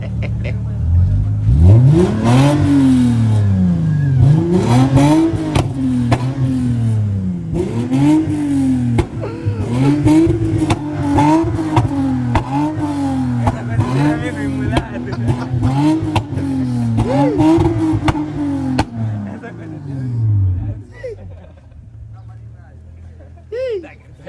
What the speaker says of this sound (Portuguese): ainda tem um vídeo, eu acelerar o carro dele